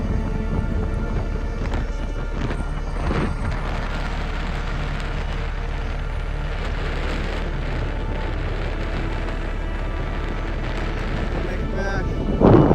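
Steady rain falls among the white sand dunes of White Sands National Park, a dense continuous wash close by with a few louder thumps and gusts, and no talking over it.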